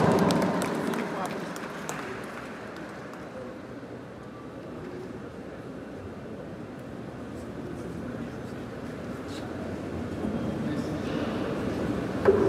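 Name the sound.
audience applause at graduation ceremony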